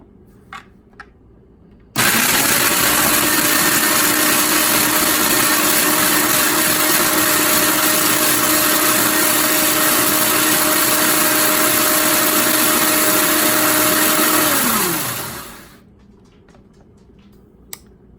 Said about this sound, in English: We're gonna put them into a food processor and we are going to turn them into crumbs.